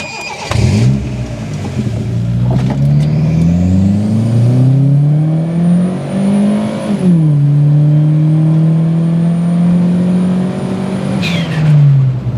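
A Toyota Starlet Glanza V's 1.3-litre single-cam turbocharged four-cylinder engine pulls away and climbs steadily in pitch, shifts down briefly, then drones on at a steady pace before another change near the end; loud and close.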